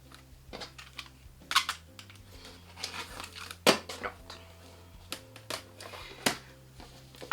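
Scissors cut through fabric strips and trim one end before sewing it to a zipper, giving a run of close, crisp snips and rustles of the cloth at an irregular pace, with a quiet steady hum underneath.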